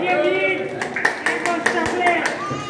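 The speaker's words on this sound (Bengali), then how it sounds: "সবার জন্য একটা জোরে করতালি হয়ে যায়।" A group claps for the organisers at a gathering on a Cox's Bazar trip, a short burst of distinct, fairly close claps while a speaker's voice continues over them.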